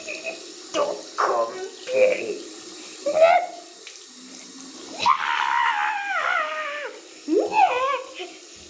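Water runs from a tap to fill a bath, a soft steady rush partly buried under high, squealing, whining voices and shouting.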